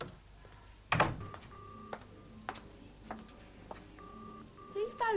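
A telephone is dialed indoors, with a handful of separate beeps and clicks spaced out over a few seconds, fairly quiet, with a few faint background noises.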